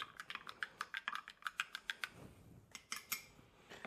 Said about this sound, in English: Give this another little stir to get it nice and mixed.